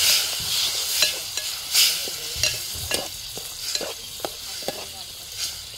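Curry is stirred in a sizzling pan, with repeated scraping and clinking strokes of the spoon against the metal in an uneven rhythm over a constant, moderate frying hiss.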